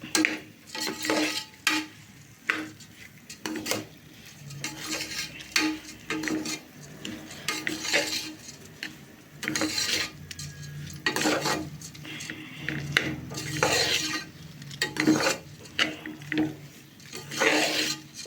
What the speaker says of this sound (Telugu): ఈ విధంగా మిక్స్ చేసుకోవాలి